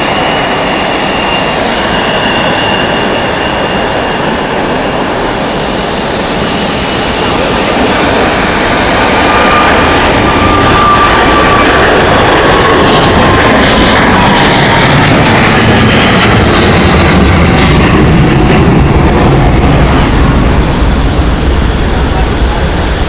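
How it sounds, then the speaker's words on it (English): Edelweiss Airbus A340 jet departing Zurich Airport, a loud, broad continuous roar that swells over the whole stretch with a slowly falling whine, steady and close, with faint voices beneath. "And another beauty here, Edelweiss A340 heading out next"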